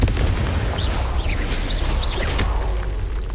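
Confringo blasting spell in the Hogwarts Legacy video game, a rumbling explosive blast with whooshing, crackling debris and short high whistling tones, loud and sustained before fading out, with no talk.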